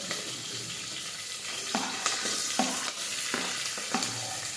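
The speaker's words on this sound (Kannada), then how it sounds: "ಸ್ವಲ್ಪ ಮೆಣಸಿನಕಾಯಿ ಫ್ರೈ ಮಾಡಬೇಕು ನಂತರ ನಾನು ಈರುಳ್ಳಿಯನ್ನು ಹಾಕ್ತೇನೆ" Green chillies and onion frying in hot oil for hotel-style masala rice, a steady close sizzle broken by several sharp scraping stirs of a spoon against the pan, with no talking.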